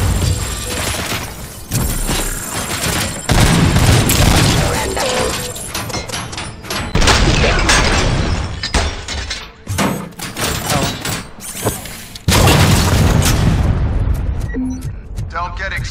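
Gunfire and explosions in the RoboCop: Rogue City video game, dense bursts of shots and heavy booms with brief pauses, loud and close, with voices speaking amid the action.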